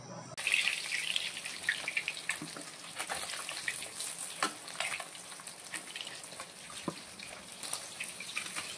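Rohu fish pieces frying in oil until golden, with a continuous close sizzle and crackle and occasional sharper pops and utensil taps.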